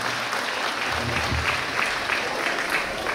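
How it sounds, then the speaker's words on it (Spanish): Wedding guests at a reception meal in Santiago Cuixtla, Nopala, applaud for the baptism godmother, a steady wash of clapping from a crowd heard at moderate distance. "Fuerte los aplausos, por favor,"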